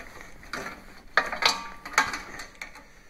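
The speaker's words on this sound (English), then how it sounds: "There's a plug right here. We plug that in there." A cord plug pushed into a socket, a few close plasticky clicks and rattles in quick succession, with no one speaking.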